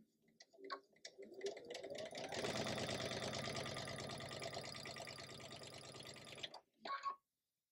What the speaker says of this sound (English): feed it into my machine,